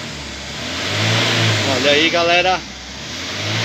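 Iveco 35S14 Euro 3 van with an accelerator module fault, its engine idling and then revving up and back down nearby, with someone speaking briefly over the engine.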